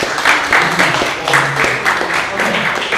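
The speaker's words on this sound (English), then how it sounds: "Big round of applause for." Audience applause at a MedMo reopening event in New York City, a steady wash of clapping from a crowd that holds evenly loud throughout with no clear talk over it.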